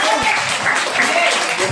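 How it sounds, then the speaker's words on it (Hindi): Audience at a school Saraswati Puja award ceremony clapping in a brief, dense burst, with voices audible underneath. "तो तालियां स्वागत के लिए देता हूं।"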